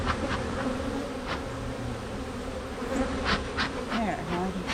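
Honey bees swarm around open hives being split by a beekeeper, filling the air with a dense, steady buzzing that holds throughout, with occasional louder passes of individual bees close by.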